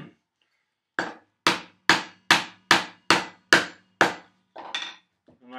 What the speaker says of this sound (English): It's not you, it's the grain. I try to twist my handle in the opposite direction.